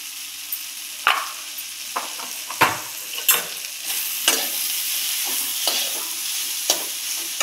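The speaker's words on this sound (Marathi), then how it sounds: "हलवून घेऊया आता।" Spice masala with Kashmiri red chilli, garam masala and coriander-cumin powder being stirred in a hot pan, a soft steady sizzle broken by a dozen or so sharp scraping strokes of a spoon at an irregular pace.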